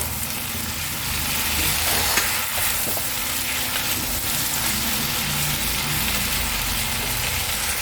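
Small shrimp fry together with hyacinth beans in a pan, giving a steady, dense sizzle that runs unbroken for the whole stretch at an even level, with no voices over it.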